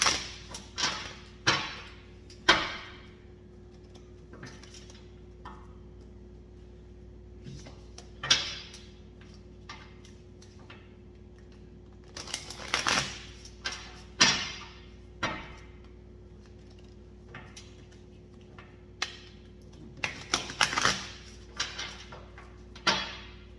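A deck of Starseed Oracle cards is shuffled by hand, with repeated soft riffling and tapping bursts at irregular intervals against a quiet background hum.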